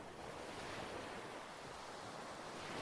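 Steady, faint beach surf blends with wind rushing across the microphone in a continuous wash of noise, with no distinct breaks or voices.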